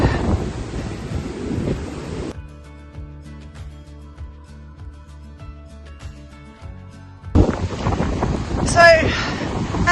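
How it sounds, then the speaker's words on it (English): Massive waves crash on Anglesea beach, rumbling surf mixed with heavy wind buffeting the microphone at the start and again near the end, while a stretch of music fills the middle section. "look at these waves. They're massive."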